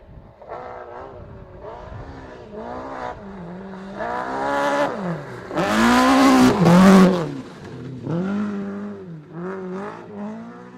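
BMW rally car on a rally stage, approaching from a distance with rising engine revs and gear changes, roaring loudly close by as it passes, then fading away with further throttle bursts.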